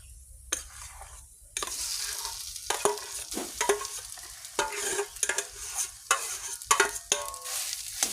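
Potatoes sautéing in a spiced masala for aloo chop, with steady sizzling and repeated scraping stirs of a spoon in the pan, moderately loud and close.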